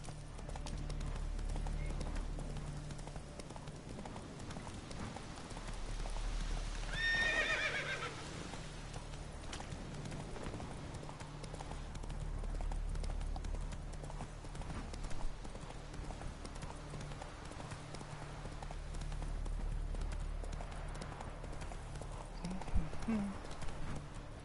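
Horse galloping in the video game The Witcher 3: faint hoof clip-clops run under game ambience, with a high whinny around the middle and a voice talking quietly at times.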